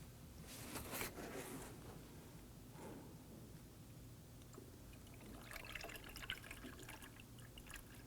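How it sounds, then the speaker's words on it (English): Coolant pours and trickles into the expansion tank of a 2003-2014 Volvo XC90 3.2L inline-six during a radiator replacement, heard as soft, close liquid gurgling with intermittent splashy bursts. "coolant is going to come down through the expansion tank and run down through the lower hose"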